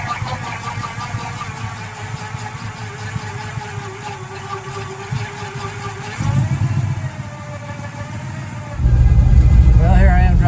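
A 1968 Pontiac Firebird on the road into town, its engine droning steadily under talk, then swelling louder and rougher near the end as the throttle opens.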